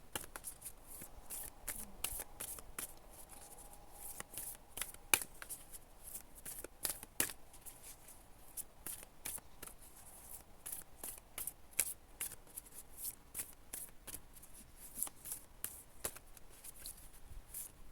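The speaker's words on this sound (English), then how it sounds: "give one more shuffle" Rapid riffling of a deck of matte, stiff divination cards in repeated bursts of crisp, flapping clicks, close and fairly quiet, with no voices.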